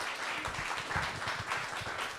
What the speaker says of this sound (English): One more clap for Pam.